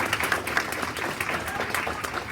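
Sustained clapping from a concert audience at an opening set, a steady dense patter of many hands with some crowd noise mixed in.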